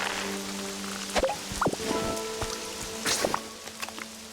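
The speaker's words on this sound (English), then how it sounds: "I'm gonna let it rain." Rain falls in the Pokemon Pokopia video game, a soft steady patter with scattered drop hits and short tonal game sounds layered over it.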